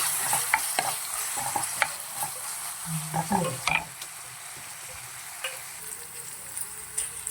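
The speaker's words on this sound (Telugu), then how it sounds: "కొంచెం సాల్ట్, కొంచెం పసుపు వేసి కొంచెం పచ్చివాసన పోయేంత వరకు ఫ్రై చేసుకోండి." Peas and onions with a pinch of salt and turmeric fry in a pan, with a steady sizzle broken by scraping spoon strokes and a few sharp clinks close by; no one speaks.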